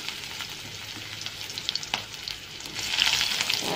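Chopped onion sizzling in hot cooking oil for a home-style chicken curry, a steady close crackle with occasional stirring scrapes, no voices.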